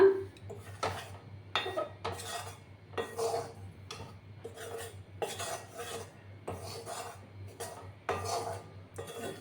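Atta flour roasting in a pan over a low gas flame, stirred with a utensil in steady repeated scraping strokes that rasp against the metal, close and fairly quiet, with no talking.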